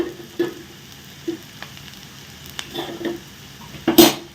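A spoon stirs masala frying in oil in a pan, with steady sizzling and several sharp scrapes and clinks against the metal, loudest near the end.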